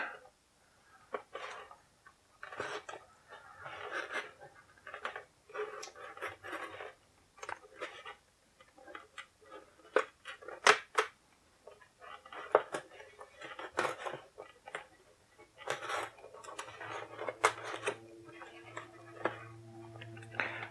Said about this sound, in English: So we're going to do the same thing, just go ahead and cut them open